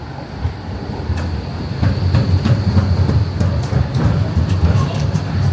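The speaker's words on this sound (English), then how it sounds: "I think it's called a tram, not a train" A Swiss tram rolls along with a steady low rumble and scattered clicks and rattles from the track, loud and close throughout, with no talk over it.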